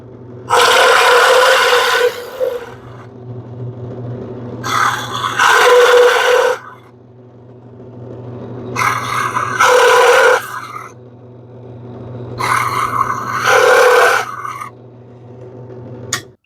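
Bursts of grinding as a Forstner bit drills into scrap wood, four separate passes of about two seconds each, separated by short pauses, with a steady low motor hum throughout.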